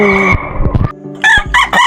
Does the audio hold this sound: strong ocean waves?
no